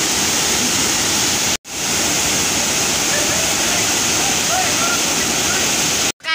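A waterfall at Dudheko Raha near Pokhara, Nepal, roars as a loud, steady wash of rushing water close by, broken only by two brief cuts to silence.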